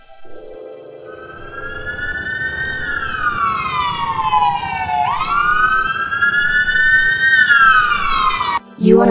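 A police car siren wails in a long rising and falling tone that sweeps up and down several times, loud and close, cutting off abruptly near the end.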